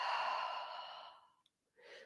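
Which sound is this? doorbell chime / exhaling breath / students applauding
exhaling breath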